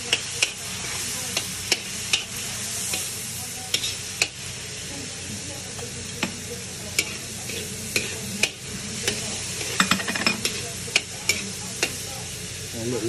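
Meat for chop suey being stirred as it fries in a pan: steady loud sizzling under repeated clacking scrapes of a spatula against the metal, coming in an irregular rhythm of about one every second.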